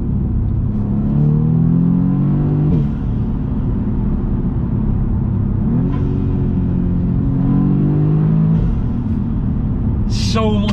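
A modified Audi's engine revs loud and close through a series of downshifts, with repeated rising blips and throttle surges over a steady rumble, ending in a brief sharp whine.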